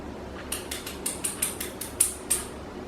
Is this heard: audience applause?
no